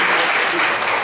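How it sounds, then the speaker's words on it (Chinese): Church congregation applauding together during a worship service, a steady dense clapping wash that fills the short moment without any talk. "那我们再请掌声来荣耀主耶稣"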